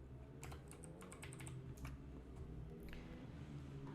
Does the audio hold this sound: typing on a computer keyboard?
yes